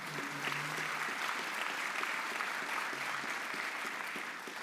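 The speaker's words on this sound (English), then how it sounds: "Let's give them one more round of applause." An audience at a real estate update event gives sponsors a round of applause, a dense and steady clapping that fills the room and tapers slightly at the end, with faint voices underneath.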